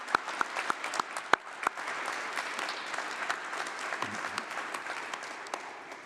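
Audience applause at a university winter graduation ceremony, a broad steady wash of clapping across a large hall with a few sharper, closer claps standing out early, lasting several seconds without talk.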